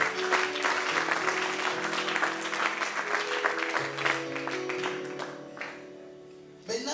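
A church congregation applauds in a sustained, dense wash of clapping that holds steady, then thins out toward the end over a lingering musical tone.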